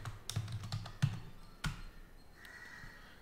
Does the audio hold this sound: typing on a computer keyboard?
yes